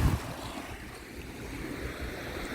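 Lake waves lap gently at the shore at Port Hope, a soft steady wash with wind noise over it, and a louder splash or rustle right at the start.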